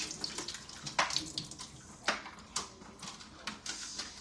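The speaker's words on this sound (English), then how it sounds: "I'm gonna rinse those off." Fruit such as grapes is rinsed under a running kitchen tap, with water splashing and spattering in uneven bursts and sharp clinks, close and moderately quiet, and no one talking.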